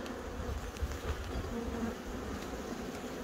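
Honeybees buzzing around hives on Dartmoor in August, a dense, steady outdoor drone of many insects close by, with individual bees passing near now and then.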